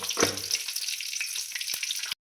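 Cumin seeds hit hot oil with a brief crackling sizzle and a few sharp pops, moderately quiet, then cut off abruptly at the end.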